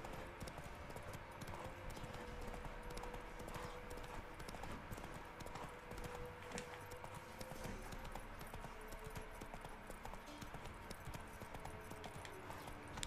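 Galloping horse in The Witcher 3: Wild Hunt, hooves pounding in a steady, fast clip-clop rhythm across the whole stretch, with a faint neigh and low background game sounds.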